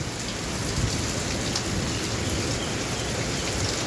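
Rain falls steadily on a village and its fields, a constant close hiss of drops hitting surfaces with no voices heard.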